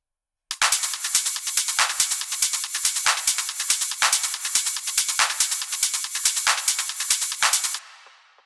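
The full drum pattern of a hypnotic groove techno track with everything playing: a dense, driving wall of percussion with a steady pulse of hits, bright and loud, running for about seven seconds before cutting to a brief tail.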